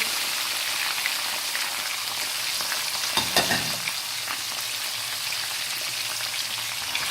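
Mutton frying in a karahi with ginger, garlic, green chili paste, cinnamon and black cardamom, giving a steady close sizzle throughout with a brief louder stir in the middle.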